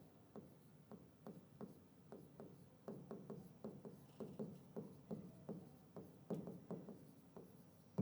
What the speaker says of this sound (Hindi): अब हम लिखेंगे क्वेश्चन नंबर 4